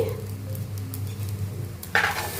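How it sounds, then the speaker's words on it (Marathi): Sabudana khichdi being stirred in a pan, a soft steady scraping over a low hum with faint sizzling, then a brighter clink of the spoon against the pan near the end. "आता सगळं एकजीव करून घेते मिक्स करून घेते"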